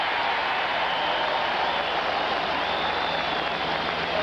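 Stadium crowd at a 1986 Falcons versus Patriots NFL game cheering an open field tackle, a broad, sustained roar of applause and voices at an even level throughout.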